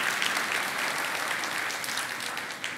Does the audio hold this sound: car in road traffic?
no